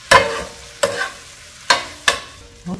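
Bitter melon and egg stir-fried in a pan, four sharp spatula scrapes and tosses at an uneven pace, each with a quick sizzle, close and clear with no voices.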